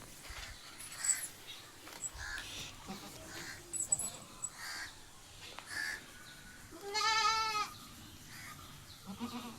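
A Malabari goat and her kid bleat on a farm, one clear drawn-out bleat standing out partway through among softer scattered calls, moderately near, with faint murmured talk and a bird call in the background.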